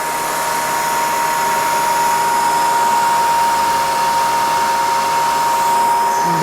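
A Bridgeport CNC mill's spindle runs steadily at 4,200 RPM, a constant loud whine with a high tonal ring and broad machine hiss, unbroken from start to finish, with no one speaking.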